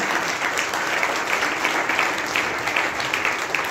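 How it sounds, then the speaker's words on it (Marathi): A church congregation claps loudly and continuously, with a dense, even wash of applause that holds steady the whole way through and carries no speech. "जोरात टाळ्या वाजवून कधी येशूला धन्यवाद देऊया."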